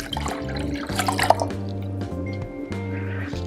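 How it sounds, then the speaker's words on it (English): Cold water runs from a tap into a pot holding three eggs, a steady splashing and dripping stream with a low hum underneath and no talk. "I'm going to cover them with cold water."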